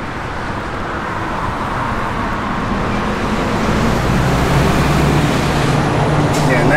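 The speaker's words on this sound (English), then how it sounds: "Car drives out excellent" A 1966 Oldsmobile Starfire with a redone front suspension drives along, giving a steady, continuous road and engine rumble that swells slightly louder toward the end.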